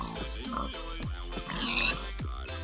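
Several Minecraft pig grunts and oinks in quick succession, with a whine and some low rumbling underneath; no talking.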